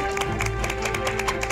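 Studio audience on MasterChef México clapping steadily for a guest, a lively continuous patter of hands with sharp individual claps standing out over a constant background hum.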